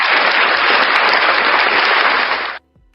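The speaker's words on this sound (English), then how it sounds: "You got a round of applause yourself for that one." A round of clapping, dense and steady at close range for about two and a half seconds, then stopping abruptly.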